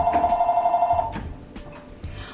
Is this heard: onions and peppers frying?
no